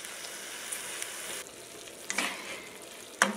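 Ground beef fries in a pot over medium-low heat, a soft steady sizzle broken by scraping stirs and a sharp clatter of utensil against metal near the end, no talking.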